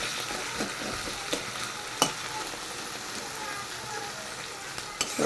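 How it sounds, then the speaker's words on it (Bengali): Onions fry in hot oil in a pan for a rohu fish kalia, giving a continuous close sizzle broken by occasional spatula clinks and scrapes as they are stirred. "ভালো করে একদম পেঁয়াজটাকে ভাজা ভাজা করে নেবো যাতে কোনো কাঁচা গন্ধ না থাকে"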